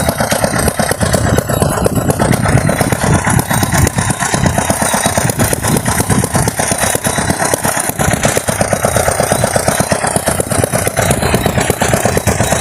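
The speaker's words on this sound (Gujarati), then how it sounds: "આમાં ડીઝલનું એન્જિન આવે છે" A power tiller's diesel engine chugs steadily and loudly up close while working a farm field, its rapid knocking rhythm unbroken throughout with no voices.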